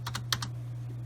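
Quick light clicks of typing on a computer keyboard, a handful of soft keystrokes close by over a steady low electrical hum, no voices.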